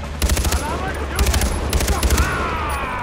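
Gunfire during a headshot in Far Cry 4: two loud bursts of rapid automatic shots, about a second apart, with a quieter tail of game ambience and no talking.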